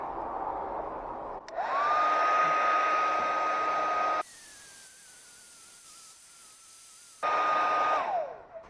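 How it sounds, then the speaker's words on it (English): A hair dryer heats a Kia car emblem, whirring steadily with a rising tone, cutting to a different airflow hiss partway, then returning, running close and loud without any talking. "So just a couple minutes with the blow dryer"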